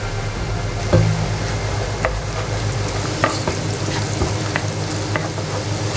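Finely chopped garlic cloves sautéing in a pan for spaghetti and meatballs, a steady close sizzle with occasional stirring knocks and scrapes, no talking.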